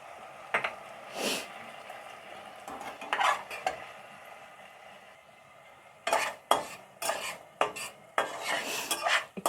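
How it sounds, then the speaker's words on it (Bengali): A utensil scrapes and clinks against a pan while egg pasta with soy sauce and tomato ketchup is stirred, in bursts of close, sharp scraping over a quiet background with gaps between strokes. "একটু নাড়িয়ে ছাড়িয়ে নিলাম।"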